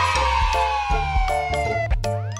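A cartoon police car siren wails in repeated sliding tones over a bouncy children's music backing, loud and close, with short percussive hits breaking up the rhythm.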